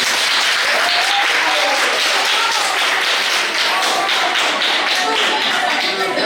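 Loud, dense audience applause in a French morning radio show studio for contestants after a game round, continuous and close throughout.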